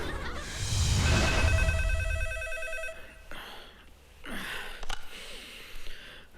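A telephone rings with a bright, repeating electronic trill, fairly loud for a few seconds, then stops as quieter rustling and breathy sounds follow.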